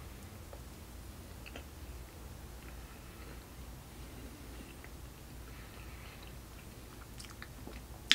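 Someone chews a buttermilk biscuit with Spam and cheese. Soft, faint, irregular chewing and small clicks come close to the microphone in a quiet room.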